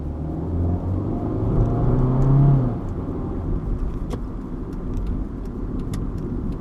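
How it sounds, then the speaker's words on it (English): A warmed-up car engine settling into a steady low idle around 750 rpm, heard from inside the cabin, with a brief swell in rumble early on, then an even hum with small ticks. "Engine's mostly warmed up now. We've come down to our idle speed of about 750"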